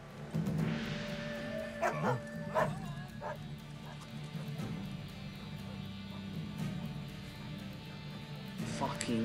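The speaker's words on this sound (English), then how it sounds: "Dogs." Guard dogs in the video game Assassin's Creed Chronicles: China bark in several sharp bursts at irregular intervals, fairly close, over a continuous low game background hum.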